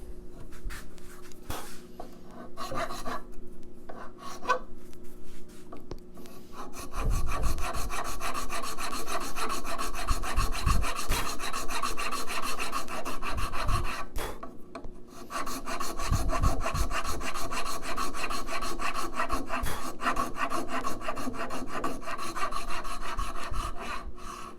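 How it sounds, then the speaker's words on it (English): A wood rasp files a traditional guitar heel in steady, rhythmic rasping strokes, close and continuous with brief pauses, growing denser and louder partway through. "remove these scratch marks or rasp marks"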